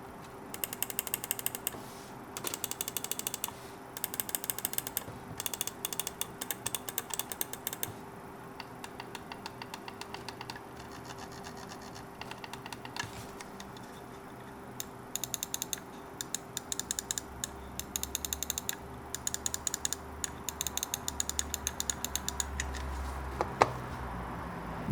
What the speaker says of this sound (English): Let's do a quick sound test.